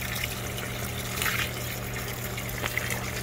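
Water being scooped and stirred in a fish tank holding electric eels and catfish, a steady watery sloshing with a pump hum beneath and a couple of brief splashes near the middle and end.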